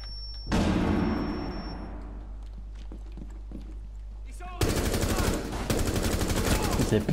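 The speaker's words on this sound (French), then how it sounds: "C'est plus sa mère cette mitraillette, c'est un truc de ouf." Submachine gun fire in Rainbow Six Siege, a sharp burst followed by a loud, dense stretch of rapid shots in the second half, with game ambience and a voice talking in between.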